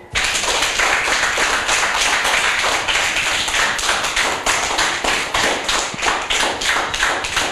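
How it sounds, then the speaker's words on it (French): An audience at a school book presentation applauds steadily for several seconds, with dense, loud, sustained clapping close by and no talking over it. "On applaudit bien fort Rémi."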